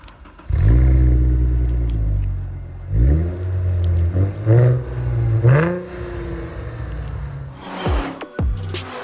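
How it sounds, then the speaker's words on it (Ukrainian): A 2011 Mercedes-Benz E 350 engine with a modified exhaust revs several times in short bursts, deep throaty exhaust rising and dropping between blips, close and loud, ending with a few clicks. "Давайте послухаємо, як все-таки АМГ речат"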